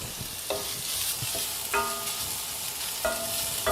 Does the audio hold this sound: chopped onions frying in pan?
yes